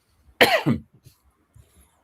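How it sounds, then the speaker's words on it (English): One sharp cough close by, followed by a few faint soft sounds and near silence. "Go ahead, because you made me cough now."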